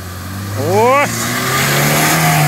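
An off-road vehicle's engine revs as it drives out through a forest, with one rising whine over a steady low hum, close and loud.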